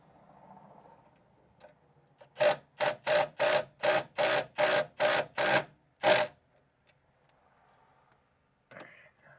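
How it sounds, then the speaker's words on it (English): An impact wrench tightening a car suspension end link on a Pontiac GTO fires in a quick run of about ten loud, evenly spaced rattling bursts up close, with quiet workshop noise before and a single clank afterwards. "So I got it tight with the impact."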